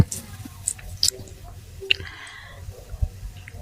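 Soft dough made from rice flour is kneaded by hand, producing quiet, irregular squishy presses and sticky little smacks, close up and faint.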